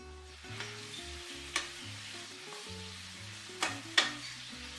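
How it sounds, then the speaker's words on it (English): Goulash meat seasoned with pepper, salt and sweet paprika searing in a pan, a quiet background sizzle under sustained low music, with a few sharp clacks of a utensil against the pan. "Mix the spices in and continue searing. Keep stirring and browning everything for a few more moments."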